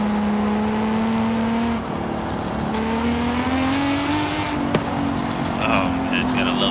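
A Toyota Supra with a turbo drives in Forza Horizon 5, its engine holding a steady drone as it revs and shifts. A faint turbo chirp like a small beep sounds near the end, with game effects in the background.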